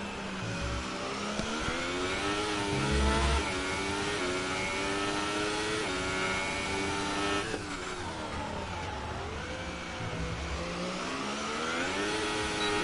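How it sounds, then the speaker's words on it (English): A Formula One race car engine gives a low, growling rumble whose pitch rises and falls as it revs and shifts, held steady and fairly distant, with no voices. "I just love the way those cars sound. That grunt that they have."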